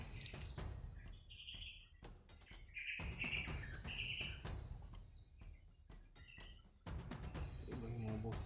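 Several birds chirp and call in bursts from the treetops, mixed with a steady insect trill and occasional faint rustling.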